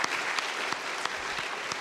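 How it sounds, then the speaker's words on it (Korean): A church congregation gives warm, steady applause during a Sunday afternoon worship service. Dense, continuous clapping fills the room with no break for its full short length. "나오실 때 격려의 박수 부탁드리겠습니다."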